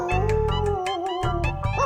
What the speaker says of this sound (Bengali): এই রে, এই কুকুর ডাকছে।